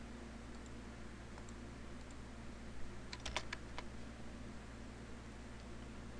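Computer keyboard typing router CLI configuration commands, a faint quick burst of several key clicks over a low steady hum, with no voices.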